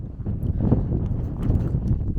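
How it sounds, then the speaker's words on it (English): Steady gusting desert wind near Quartzsite, Arizona buffets the microphone with a low rumbling roar, fairly constant throughout with no other clear sounds. "It's windy."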